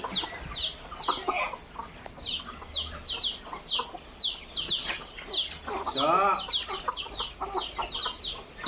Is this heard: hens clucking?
yes